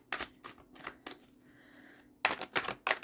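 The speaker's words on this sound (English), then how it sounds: "I'm just shuffling the deck." Tarot cards are shuffled close by in quick, crisp bursts of riffling and slapping, with a quieter pause in the middle before another rapid run of card flicks.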